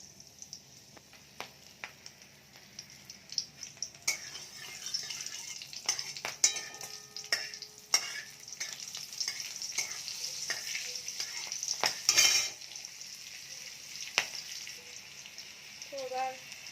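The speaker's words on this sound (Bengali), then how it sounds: "এবার এই তেলের মধ্যে কালো জিরেটা দিয়ে দেবো, আর ছেঁড়া কাঁচা লঙ্কাগুলো দিয়ে দেবো।" Black cumin seeds and torn green chillies sizzle in hot oil in a pan, a steady frying hiss broken by stirring clinks and utensil scrapes against the pan.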